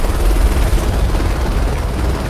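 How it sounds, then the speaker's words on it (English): A helicopter gives off a loud, steady, dense rotor and engine roar that fills the whole clip close up, with no voices over it. "Now the helicopter has been sucked in."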